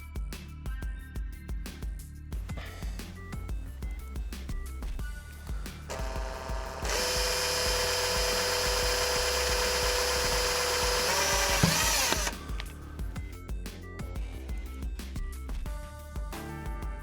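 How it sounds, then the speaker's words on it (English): A power drill bores a hole through the plastic shell of an Xbox One controller, a whining burst of several seconds standing out against a quieter background of clicks and handling. "So now I can drill out my hole here and feed those through"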